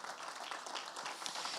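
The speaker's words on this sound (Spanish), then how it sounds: "Dele ese fuerte aplauso al Señor." Church congregation applauding during a Spanish-language service, a brief, fairly faint burst of dense clapping with no voices.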